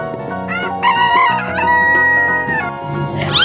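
A rooster crows a long, loud cock-a-doodle-doo close by, its strained harmonic call rising and holding before a second burst starts at the end.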